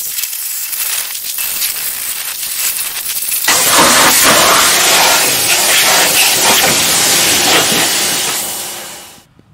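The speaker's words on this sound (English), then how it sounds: "I'll get my pressure washer out and clean all the basic muck off for a start." A pressure washer blasts muck off a rusty vehicle, a loud broad hissing spray that jumps up sharply partway through and then cuts off at the end, with quieter hissing before the main burst.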